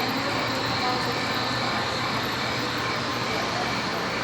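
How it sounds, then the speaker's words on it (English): A miniature model GO commuter train runs along its track in a model-railway exhibit, heard as a steady, dense rumbling whir under busy indoor crowd murmur throughout. "Oh, that's the GO train."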